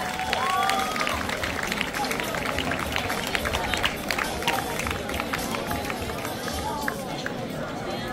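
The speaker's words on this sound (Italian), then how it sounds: "facciamo un grandissimo applauso agli juniores provinciali dello Scarlino Calcio" Crowd applause at a presentation of local football teams honours the Scarlino Calcio provincial juniors: steady, dense clapping mixed with audience chatter and shuffling, while a voice carries over it.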